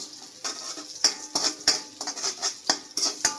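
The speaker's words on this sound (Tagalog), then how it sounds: "Igisa lang natin ito para lumabas yung aroma ng luya." Ginger sautéed in a pan and stirred with a metal utensil, giving repeated sharp scraping clinks in an irregular rhythm over a soft sizzle, close and loud.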